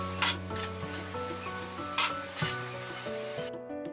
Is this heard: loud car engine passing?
no